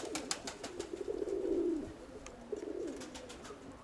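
Pigeons in a loft coo close by in two drawn-out rolling phrases, with light scratching and flapping clicks around them and no voices.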